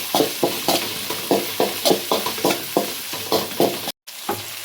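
Slit green chillies fry in ginger garlic paste for fried rice, stirred in quick rhythmic scraping strokes over a constant close sizzle, with a brief drop to silence near the end.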